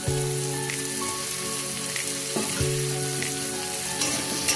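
Chopped tomatoes hit a pan of frying bata fish curry, and a dense, rain-like crackling sizzle holds loud and close throughout, broken by a couple of stirring scrapes. A faint steady hum lies beneath.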